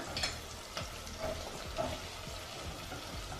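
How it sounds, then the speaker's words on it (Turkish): Tomato paste and onions fry in a pan with a soft continuous sizzle and a few faint scrapes of stirring, quiet and close, no voices. "Salça ve soğanımı güzelce kavurduktan sonra geri kalan bütün malzemeleri de ilave edeceğim."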